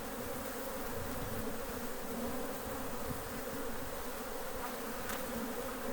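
A honey bee swarm that includes many drones makes a dense, continuous buzz, close and steady throughout, with no voices.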